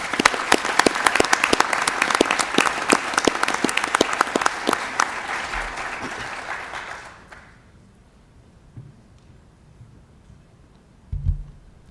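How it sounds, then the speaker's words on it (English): A room full of people applauds state qualifiers at a school board meeting, dense clapping that lasts about seven seconds and then stops abruptly, leaving near silence with a couple of faint bumps. "Let's give them a round of applause one more time."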